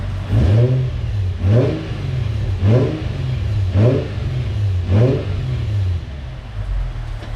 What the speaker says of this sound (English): My exhaust sounds real weird.